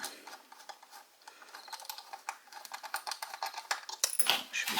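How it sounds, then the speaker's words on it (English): Small screws being loosened under an Atlas HO scale GP40-2CU model locomotive, close and quiet, with faint ticking, scraping and light metallic clicks in an irregular run. "they have some screws under here. You just gotta take these two out and loosen them so the locomotive will become loose"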